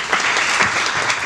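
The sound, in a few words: audience applause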